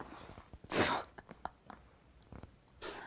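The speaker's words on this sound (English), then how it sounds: "It was an act until it became a real sneeze." A real sneeze bursts out during a children's ring-a-roses game at an active kids' session: one loud, sharp, breathy blast, scattered small clicks and rustles, then a second airy burst at the very end.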